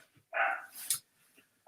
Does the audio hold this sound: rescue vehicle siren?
no